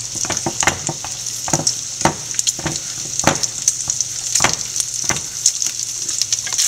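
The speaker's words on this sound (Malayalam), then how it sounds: "ബട്ടർ മെൽറ്റ് ആയിട്ടുണ്ട്. നമുക്ക് എഗ്ഗ് ഒഴിച്ച് കൊടുക്കാം." Beaten eggs frying in melted butter for scrambled eggs, a steady close sizzle with scattered clicks and scrapes of stirring throughout.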